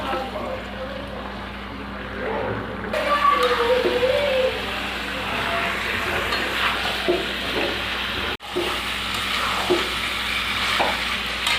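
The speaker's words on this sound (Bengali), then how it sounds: "এবার মাংসটাকে ভালো করে আমি কষিয়ে নেব।" Meat sautéing in a pan with salt and turmeric for a Bengali meat curry, a steady close sizzle with intermittent stirring scrapes and a brief gap, under a low background hum.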